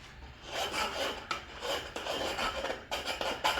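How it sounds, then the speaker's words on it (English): Metal file rasping along the edge of a Skunk2 car part to deburr it, steady back-and-forth strokes with short pauses between passes, close and fairly loud with no talk. "Files work pretty good."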